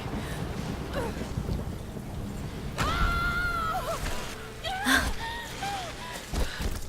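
Thunderstorm ambience in the video game Tomb Raider: steady rain-like hiss with a low rumble beneath, plus a few brief groaning and gasping vocal sounds over the weather.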